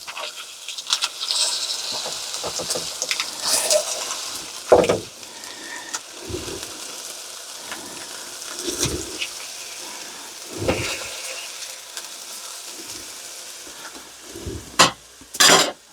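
Turkey smash burger patties sizzle steadily in the pan, with a few sharp clinks and scrapes of a utensil; no one speaks.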